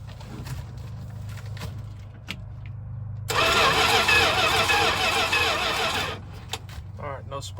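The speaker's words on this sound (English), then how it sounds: "So now I'm gonna crank it over and to see if I can get some spark." An old Dodge van that sat since 1986 cranks over without starting: a loud, steady starter whir lasting about three seconds, with someone talking before and after.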